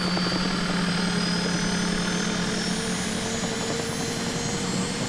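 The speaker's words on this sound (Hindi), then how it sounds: "इंजन शुरू कर दिया।" Cartoon aircraft engine starting up and running at a steady, loud drone with a constant hum and whine, continuous throughout with no voices.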